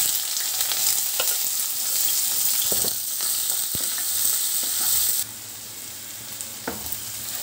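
Chopped onion and green chilli pieces fry in hot oil for an egg masala curry, a steady broadband sizzle with occasional sharp crackles and spatula clicks, loud and close, easing slightly toward the end.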